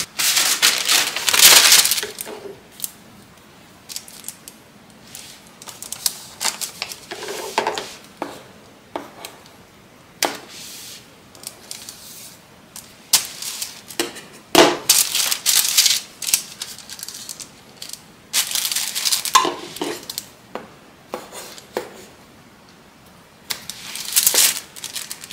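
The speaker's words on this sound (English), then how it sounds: "They're Kai's, and they're great for making snips like this." Kai scissors snip through fabric during a sewing project, making a run of crisp, close cutting sounds in irregular bursts with short pauses between them.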